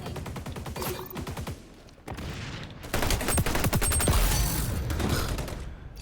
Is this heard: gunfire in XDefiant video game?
yes